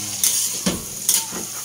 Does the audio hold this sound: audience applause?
no